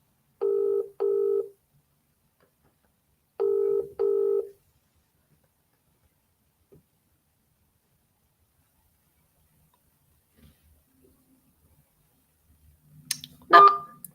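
A telephone call rings out on the line with two short bursts of a two-tone ringback, a long quiet stretch, and then a brief muffled rustle near the end.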